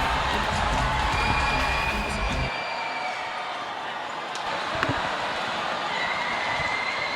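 A basketball crowd at a school sports meet roars after a two-handed dunk, loud and dense at first, then cutting down to a lower murmur of noise in the arena.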